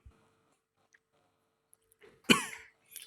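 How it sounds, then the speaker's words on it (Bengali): A single sharp, close cough bursts out after a quiet stretch of faint small clicks and rustles, followed by a brief trailing rasp. "আমার কাশির আওয়াজে মনে হয় মানে"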